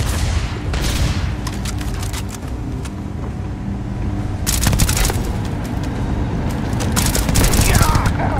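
Video game gunfire in rapid bursts, with loud clustered volleys around the middle and end over a steady engine-like rumble, while players talk throughout.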